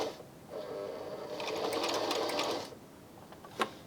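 A Brother My Star 3 sewing machine stitches a bar tack at the front of a buttonhole in a steady mechanical whir of about two seconds, rising in speed before it stops, then a single sharp click follows.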